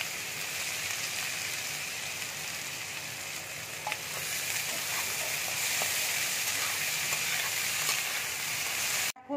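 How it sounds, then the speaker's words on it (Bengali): Sliced onions frying in hot oil until crisp and browned, a loud, dense, continuous sizzle and crackle with occasional stirring, heard close and without talk. "তেলটা গরম হলে আমি পেঁয়াজগুলো তেলের মধ্যে ছেড়ে দেবো, নিয়ে পেঁয়াজটাকে বেরেস্তা করে নেব"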